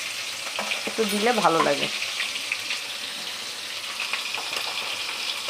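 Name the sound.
onion and chilli frying in oil with nigella seeds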